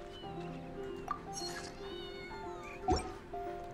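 Cats meow repeatedly in the video game Genshin Impact, several faint overlapping mews rising and falling against soft game music.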